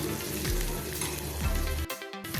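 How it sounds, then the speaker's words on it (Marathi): Onion with curry leaves sizzles loudly in a pan while being stirred, a dense close frying hiss with repeated scraping strokes, stopping abruptly near the end into quieter clatter. "कांदा थोडा परत एकदा हलवून घेऊया"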